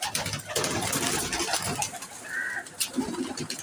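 Saharanpuri pigeons coo softly in a loft among many young birds, low throaty calls repeating over a steady busy background, fairly close.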